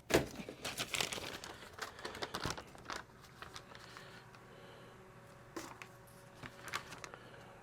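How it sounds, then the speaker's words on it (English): A sheet of paper flutters and crinkles in the airflow of a homemade ice chest air conditioner, giving faint, irregular rustling and flapping over a soft background hum. "If I take a piece of paper here."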